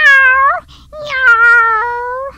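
A cat's meow, or a person imitating one, heard twice as two drawn-out, clear, tonal cries with a short gap between them, loud and close, with no other sound.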